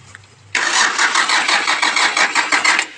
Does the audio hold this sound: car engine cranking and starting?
yes